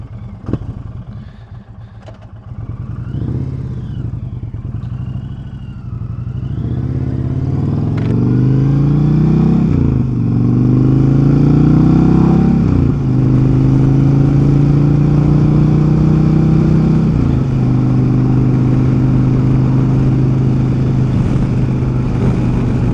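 A motorcycle pulling away for a ride near Daytona Beach, its engine idling low and then revving up through the gears into a steady, loud cruising drone close to the microphone.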